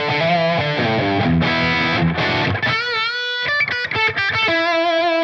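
Electric guitar played through a TONEX tone model of a Bogner X-stasy 3534 amp, loud distorted chords and ringing single notes in quick phrases, sustained and saturated, alone without talk.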